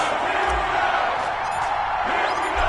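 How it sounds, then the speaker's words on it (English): Stadium crowd in an EA Sports NFL video game, Cleveland Browns versus Pittsburgh Steelers, with a steady, moderately loud roar of cheering and yelling that carries a few low thumps and short shouts throughout. "This crowd is ready as their guys get set to match up between the Cleveland Browns and the Pittsburgh Steelers"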